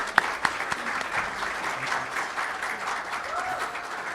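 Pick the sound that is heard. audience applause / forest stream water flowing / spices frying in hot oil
audience applause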